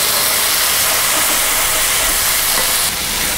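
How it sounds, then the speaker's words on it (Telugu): Tomato pieces go into a hot pan and set off a loud, dense, continuous sizzle and steamy hiss that fills the short stretch with no voices. "టమాటా ముక్కలు వేసుకుందాం."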